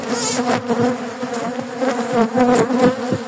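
Honeybees swarm and buzz at a hive in a garden, a dense, steady drone close by with wingbeats shifting in pitch, alone without talk.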